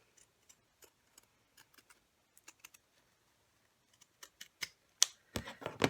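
Scissors snip along the edge of a stitched tack-down on an in-the-hoop mini fabric Christmas stocking. Soft, sparse clicks come first, then quicker, louder cuts near the close, all close and alone.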